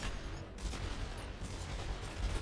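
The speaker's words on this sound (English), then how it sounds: "The turret's firing." An automated turret fires in the video game Worms W.M.D, a continuous rattling barrage of rapid shots that stays loud and dense throughout, with no pause.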